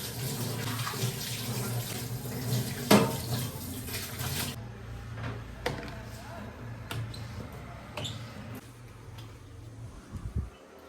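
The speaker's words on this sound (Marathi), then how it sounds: "तर चला फटाफट भांडीवर धुवून घेऊया." Dishes are washed under a running tap in a home kitchen, a steady rush of water with clinks of utensils for several seconds, then the flow stops, leaving scattered clatters and handling sounds up close.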